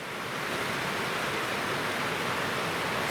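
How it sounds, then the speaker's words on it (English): A tiny overflowing brook rushes as a steady, fairly loud wash of water noise, unbroken from start to end, with no voices. "This is a tiny little brook that's overflowing right now."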